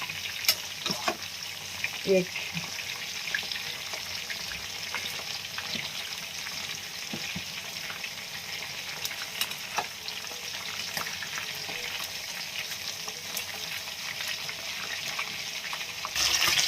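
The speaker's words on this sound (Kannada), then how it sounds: "ಇನ್ನೂ ರೋಸ್ಟ್ ಆಗ್ತೈತೆ ಫ್ರೆಂಡ್, ಚೆನ್ನಾಗಿ ರೋಸ್ಟ್ ಆಗಬೇಕು." Thick chicken kabab pieces roast and fry in oil, giving a steady close sizzle and crackle throughout with occasional stirring clicks and scrapes.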